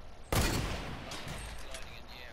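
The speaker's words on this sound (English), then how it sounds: "Oh my god, I just sniped someone." A single loud sniper rifle shot cracks out in Fortnite, followed by a fading reverberant tail and faint game ambience.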